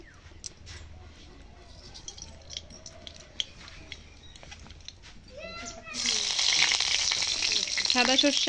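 White mustard seeds frying in oil in a wok with curry leaves: a quiet kitchen stretch of faint clinks gives way to a loud, steady sizzle for the last few seconds.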